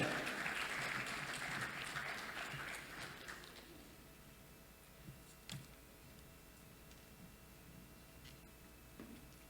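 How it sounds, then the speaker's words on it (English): An audience at a NASSCOM tech event applauds as guests walk onto the stage, the clapping strong at first and then thinning to a few scattered claps. "Please give her a big round of applause as they come up."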